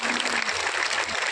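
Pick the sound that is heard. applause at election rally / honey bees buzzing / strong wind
applause at election rally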